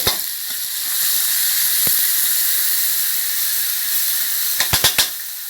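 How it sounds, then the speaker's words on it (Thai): Thai curry paste sizzles and hisses loudly in hot oil as it is stir-fried in a pan, a continuous frying crackle with a few sharp clanks of a utensil near the end. "ผัดพริกแกงให้หอม พริกแกงหนึ่งขีดนะคะใส่ลงไปเลย"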